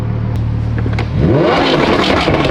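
A Lamborghini with a straight-piped exhaust and McLaren high-flow cats idles with a low rumble, then revs sharply into a loud, rising roar, close by.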